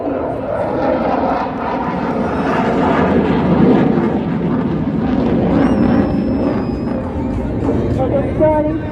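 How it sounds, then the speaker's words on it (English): At an air show, an aircraft flies a tight turn, its engine roar loud and continuous throughout, with a crowd or announcer voice blended underneath. "the aircraft will come for a very tight offensive turn, displaying its superior aerodynamic design abilities."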